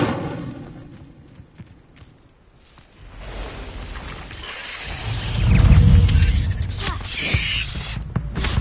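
Incendio fire spell cast in Hogwarts Legacy, a rising whoosh that swells into a low roaring burst, then fades amid creaking and light mechanical game sounds.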